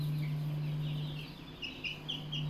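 Broiler chickens on a farm cluck softly and intermittently while feeding, quiet and close, over a constant low hum.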